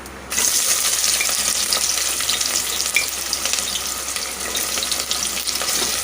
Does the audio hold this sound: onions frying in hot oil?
yes